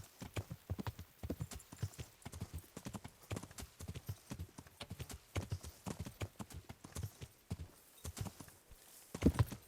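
Horse hooves clip-clop steadily in Kingdom Come: Deliverance, a brisk rhythmic run of close, crisp hoof strikes with a brief whinny near the end and faint voice underneath.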